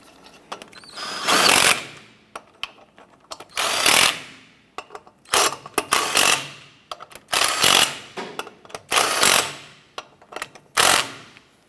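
Power impact tool snugging down wheel lug nuts on a 1994–2004 Chevy S10: about eight loud, close bursts of whirring and hammering, each a second or two long, separated by short quiet pauses, with no talk.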